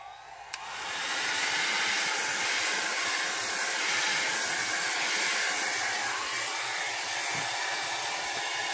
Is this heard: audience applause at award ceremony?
no